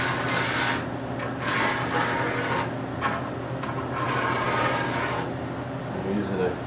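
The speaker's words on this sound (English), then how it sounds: "I'm using a credit card here. Take it off, the excess off." A credit card dragged across a wooden surface to scrape off excess finish, giving repeated rough rasping strokes in a steady rhythm, close up and fairly quiet.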